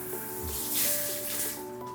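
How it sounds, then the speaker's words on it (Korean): Water runs from a shower head in a small new-town shop-and-home building, a faint, steady hiss of spray that stays even throughout. "여기 샤워기에서 물이 나오는"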